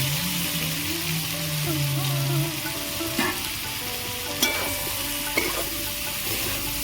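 Fried potatoes and cauliflower are stir-fried in spice paste in a pan, a continuous close sizzle with a few sharp scrapes and knocks of the spoon against the pan.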